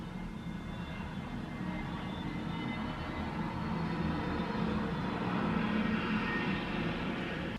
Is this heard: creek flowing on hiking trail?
no